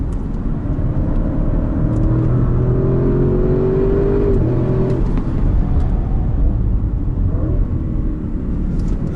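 Audi car accelerating hard on a race circuit, loud in-cabin engine drone with rising then falling pitch as it pulls through the gears, sustained and close.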